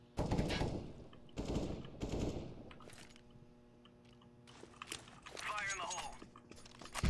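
Gunfire in a competitive shooter match: several short, loud bursts of rapid shots near the start, a quieter stretch, then more scattered shots, with a player talking over the action.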